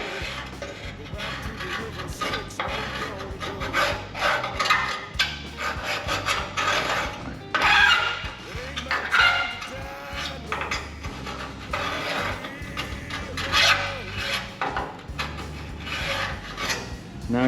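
A small scribe scrapes around a piece of metal on a 1932 Ford roadster frame in a shop, giving close, uneven scratching strokes in bursts with brief pauses.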